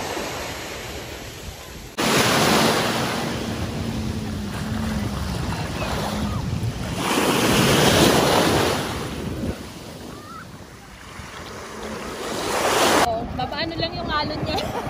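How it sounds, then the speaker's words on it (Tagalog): Strong surf on a beach at Ajman, heavy waves rolling and crashing in broad, continuous washes that swell and ease over several seconds, with wind buffeting the microphone. "Ang lakas ng alon, grabe."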